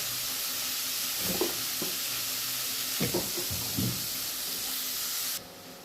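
Two small onions, with curry leaves and a pinch of salt, fry in a pan under a steady hiss, while a few soft stirring scrapes and clacks come through before the sizzle drops away near the end.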